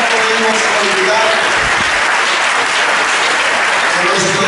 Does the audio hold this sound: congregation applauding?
yes